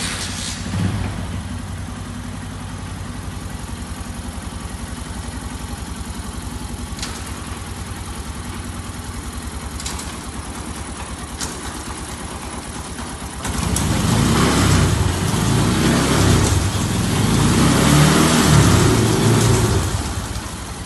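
A Honda Verza motorcycle engine runs steadily at idle during a transmission check, then grows louder and rougher partway through as it revs up, with no talk over it.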